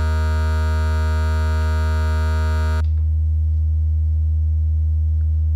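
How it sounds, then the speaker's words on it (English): Leibniz Binary Subsystem synth module playing bit 4 distortion without self-patching: a buzzy, harmonic-rich steady tone that cuts off halfway, leaving a low constant hum alone. "listen to the bit number 4 distortion without self-patching"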